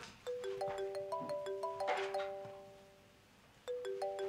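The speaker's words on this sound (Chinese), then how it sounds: "烦死了，赶紧接电话。" A mobile phone ringtone plays a bright repeating melodic chime, clear and fairly close. It stops for a moment and then starts ringing again.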